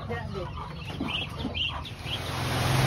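Ducks on a farm call out in short, repeated bursts close by, mixed with farmyard fowl noise while people talk nearby.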